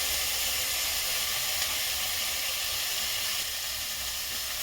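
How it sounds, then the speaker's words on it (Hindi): Vegetables fry with turmeric in a pan for a Makar Sankranti khichdi, giving off a constant, dense hiss and sizzle. The sound holds nearly level from start to finish, with no voices. "एक दो सेकंड में पहले इसे भून लेती हूँ, उसके बाद मैं मसाला इसमें डालूंगी।"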